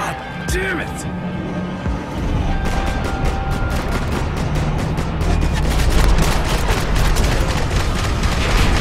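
Rapid gunfire bursts from a Max Payne 3 firefight, dense volleys of shots building over the second half, loud and continuous under a game soundtrack and shouting voices.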